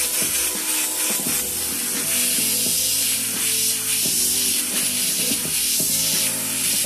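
Airbrush spraying paint onto a hat or T-shirt, a continuous close hiss of air and paint that shifts slightly as the spray varies, with faint tonal hum and clatter underneath and no speech.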